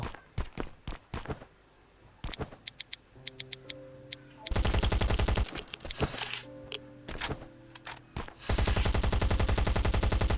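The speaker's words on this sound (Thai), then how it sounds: "แต่เราก็ต้องยิงรถมันด้วยเนี่ย" Gunfire at an enemy car in a video game: scattered single sharp shots and short bursts, then two long, loud, rapid automatic volleys, close and punchy, with quieter thuds between.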